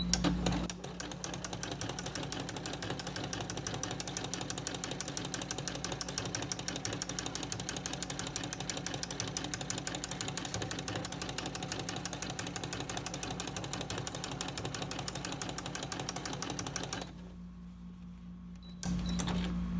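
A domestic sewing machine runs a steady, continuous stitching whir with a flower presser foot, holding an even loud rhythm for most of the stretch before stopping briefly near the end and then resuming.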